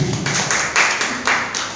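A church congregation claps during a sermon, a short burst of loud, closely packed handclaps that pulses unevenly.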